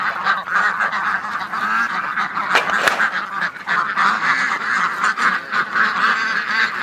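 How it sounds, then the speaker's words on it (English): A flock of ducks quacks and honks continuously and loudly at close range outdoors near a creek, with overlapping calls filling the whole stretch and no talking. "All right, ducks."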